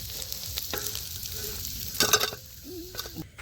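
Fish frying crisp in hot oil in a village kitchen, a steady close sizzle with bursts of spattering and a brief scrape of stirring near the middle, no voices.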